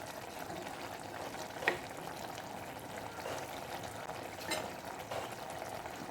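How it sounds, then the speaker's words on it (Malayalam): Ivy gourd curry simmers quietly in a pan as it is stirred, giving a faint bubbling hiss with a few soft clicks and scrapes. "നമുക്ക് നന്നായിട്ടൊന്ന് അടി ചേർത്തൊന്ന് ഇളക്കി കൊടുക്കാം."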